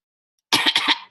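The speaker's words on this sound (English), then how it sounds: "it could have started my coughing" Someone coughs up close, a quick run of about four harsh coughs after a moment of silence.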